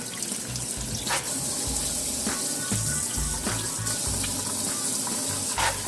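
Tap water runs steadily into a sink while a whole turkey is rinsed under it, a continuous close splashing gush with small shifts as the bird is moved, no voices.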